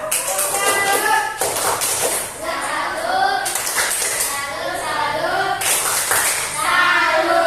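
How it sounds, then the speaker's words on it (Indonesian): A classroom group claps in bursts, sharp irregular hand claps with a short pause partway, children's voices mixed in faintly. "berikan tepuk tangan untuk Mama Dua."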